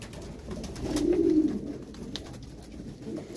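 Homing pigeons coo softly from inside a carton, a couple of low, throaty coos swelling in the middle and again near the end, close and fairly quiet.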